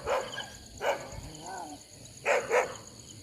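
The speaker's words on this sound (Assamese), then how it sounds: "কুকুৰবোৰ বহুত কাজিয়া লাগিছে ৰাতিপুৱাই" Early-morning dogs scuffling and quarrelling, with sharp barks and yips in short bursts, a whining growl between them, all fairly close.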